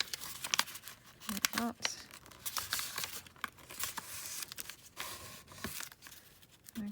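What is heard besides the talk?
tearing off a folded piece of paper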